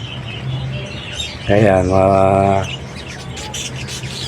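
A pet parakeet lets out a single loud, harsh squawk lasting about a second over a low background of other birds, with a brief spoken word nearby.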